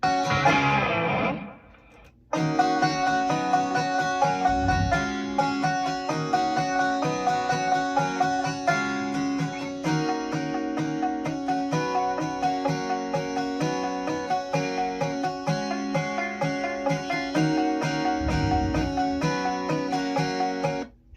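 Strummed acoustic guitars compressed through a Neve-design 535 compressor, with a compressed, even sound, playing continuously after a brief pause near the start, with steady rhythmic chords in a country mix.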